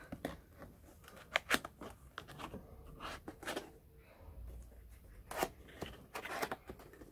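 A first PCP air rifle is unpacked from its box: quiet, scattered rustles, scrapes and sharp clicks of packaging being opened and handled up close.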